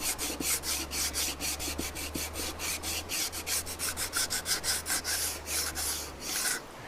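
Sandpaper rubs back and forth over a wooden neck support in quick, regular strokes, a close, dry scratching that continues evenly with no talk.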